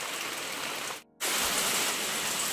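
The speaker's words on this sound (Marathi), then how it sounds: "पावसाने सुरुवात केला." Steady rain falls on a garden in Konkan, a dense even hiss that fills the clip and drops out briefly near the middle before resuming at the same level.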